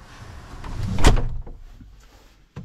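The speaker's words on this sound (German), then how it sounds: "Mal die Tür aufmachen." The cab door of a Hako Multicar M31 truck is opened, a latch click and a solid thunk close by, then quieter rattles and a final sharp knock.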